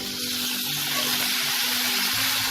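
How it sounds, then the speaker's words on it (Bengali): Ground turmeric, cumin and Kashmiri red chili powder sizzling steadily in a pan with a splash of water while cooking for a prawn curry, a constant close hiss with faint bubbling throughout. "মশলাটাকে আমি ভালো করে কষিয়ে নেব।"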